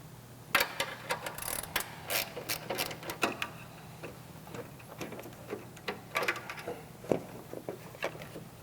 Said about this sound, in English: once again using a 15mm socket there